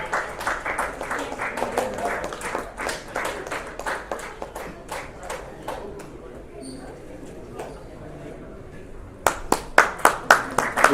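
Scattered clapping from an audience at the closing ceremony of the International Doctor's T20 League awards in Dubai, with irregular hand claps under a speaking voice and a few louder, sharper claps near the end.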